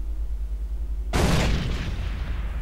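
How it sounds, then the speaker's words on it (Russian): A grenade goes off in the Far Cry 3 video game: a single sudden, loud, close blast that rolls off into a long, fading rumble and debris hiss, with no talking. "Граната, граната, граната."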